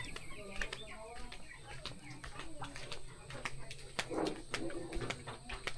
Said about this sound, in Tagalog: Ito oh, may manok.